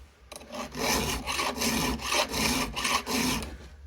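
A file drawn across chainsaw chain teeth to sharpen them, about eight quick rhythmic rasping strokes close up, each a short gritty scrape with brief pauses between, and no talking.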